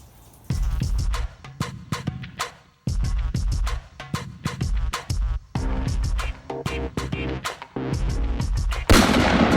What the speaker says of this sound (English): we shot about 65 rounds of ammunition